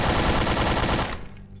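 A loud, rapid automatic burst of gunfire in Garry's Mod, a tight rattle of shots that runs for about a second before cutting off abruptly, leaving a faint tail.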